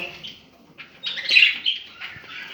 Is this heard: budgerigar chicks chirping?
yes